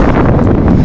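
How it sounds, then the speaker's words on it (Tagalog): Wind rushes steadily past the microphone while someone rides an e-bike, a loud, continuous, broadband roar with slight gusting for under a second. "Ay, sarap ng hangin."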